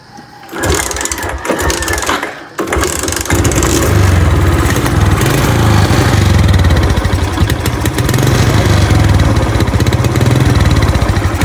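A Raider J motorcycle engine is started, with a few dry cranks and a brief pause, then catches and runs with a loud, steady, close-up buzzing idle.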